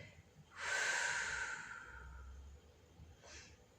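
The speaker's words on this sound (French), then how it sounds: "Soufflez bien, levez bien le coude vers le plafond. Vous soufflez." A strong, close breath is pushed out during a shoulder and neck stretching exercise, followed by a fainter second exhale.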